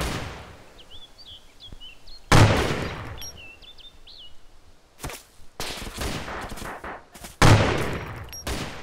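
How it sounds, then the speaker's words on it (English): Several sharp gunshots from the video game DayZ crack out in bursts, some loud and close, others quicker and lighter, over a steady background hiss with faint chirping tones. "There's gunfire."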